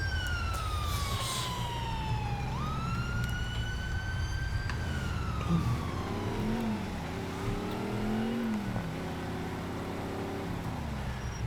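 A wailing ambulance siren from the video game GTA IV, sweeping up and down in pitch and joined partway through by a second, lower siren tone over steady traffic and engine rumble, with no talking.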